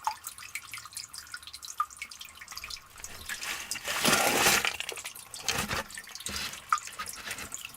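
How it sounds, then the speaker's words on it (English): Water dripping inside an old collapsed coal mine in West Virginia, irregular nearby drips and splashes echoing in a quiet space, with a louder trickling burst midway. "I hope you could hear me over the water dripping."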